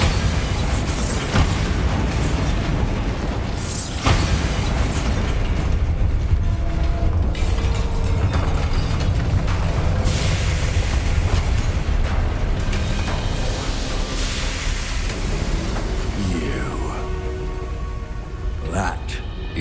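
A Bombarda spell explodes in the Hogwarts Legacy video game, with loud booming blasts and crumbling debris over dense, continuous game noise, and a voice speaking over it.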